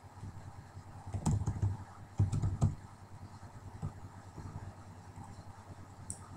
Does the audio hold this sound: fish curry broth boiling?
no